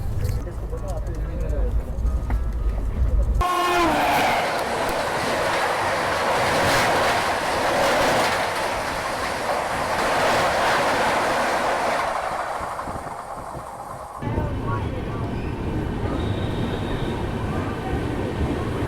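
Bhopal Shatabdi Express pulling into Lalitpur Junction, a loud steady rumble of wheels and carriages with rhythmic clatter, heard from aboard, easing and shifting near the end as the train slows.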